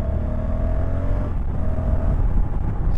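A 2024 Honda CRF1100L ES Africa Twin motorcycle pulls in third gear on an open road, its engine droning steadily while heavy wind rush fills the sound around the rider.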